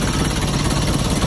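A car engine idles close by with a steady, dense rumble while the air conditioning runs, the idle sagging low and uneven, with no voices over it.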